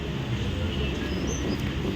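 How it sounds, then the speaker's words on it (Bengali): A train pulling out of Netaji Subhas Chandra Bose station, a steady broadband rumble and hiss of rolling wagons, continuous and fairly loud throughout. "এখন নেতাজি সুভাষচন্দ্র বোস স্টেশন থেকে ট্রেন ছেড়ে দিল"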